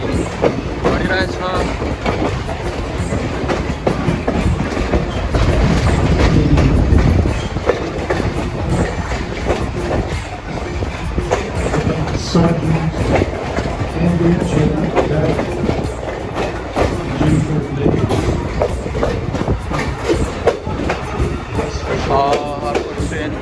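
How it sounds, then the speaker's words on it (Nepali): Tourist train rolling along the tracks through the Lehigh Gorge near Jim Thorpe, Pennsylvania, with a steady loud rumble and rhythmic clickety-clack of wheels on rail joints throughout, heard from inside the carriage. "हाम्रो ट्रेन अगाडि बढिरहेछ"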